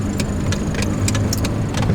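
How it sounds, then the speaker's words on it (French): A 1989 BMW E30 316i engine idles close by, a steady low rumble with a faint ticking rattle from valves needing adjustment, repeated light clicks running over the hum with no talk. "Sauf ça se trouve c'est le bruit du moteur normal"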